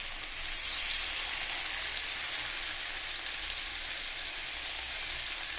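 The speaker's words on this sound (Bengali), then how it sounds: "এখন ঝোল দিয়ে দেবো" Broth poured into a pan of fried spices and tomato gives a loud, steady sizzle with a bright hiss that swells briefly near the start and then holds evenly.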